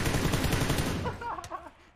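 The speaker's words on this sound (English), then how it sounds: "He's getting shot." Video-game gunfire crackles in a fast, dense automatic burst that fades out after about a second, followed by a few faint scattered sounds.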